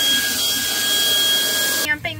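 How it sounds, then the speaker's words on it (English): A Shark vacuum cleaner runs inside a truck camper with a loud, steady, close whine and rush of air, then cuts off abruptly near the end, leaving brief sounds that may be a voice. "Always have a Shark vacuum for quick vacuuming in the camper."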